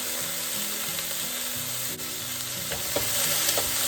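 Food sizzles and fries steadily in a pan while a utensil stirs and scrapes it in irregular strokes, close and constant, with no talking.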